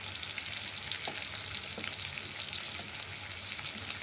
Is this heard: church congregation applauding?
no